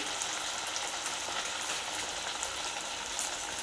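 Sabudana vadas fry in hot oil over medium heat, a dense, steady, close sizzle that continues evenly throughout with no talk.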